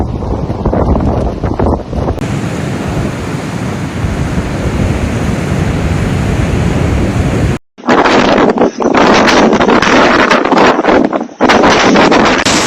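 Strong storm winds of Storm Éowyn battering a microphone, continuous loud roaring gusts with buffeting, a brief cutout partway, then harsher blasts, no speech.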